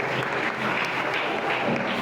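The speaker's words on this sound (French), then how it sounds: "On encourage quand même dans les acclamations." Applause and cheering from an audience at a live show, a steady dense wash of clapping with crowd noise filling the full two seconds at moderate level.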